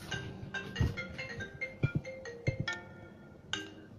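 A phone ringtone plays during a live show, a bright, repeating electronic melody that sounds clearly and close by for several seconds.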